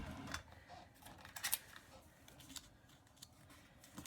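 Scissors trim a printed photo for a scrapbook page, making a few soft crisp snips and paper rustles, close and quiet.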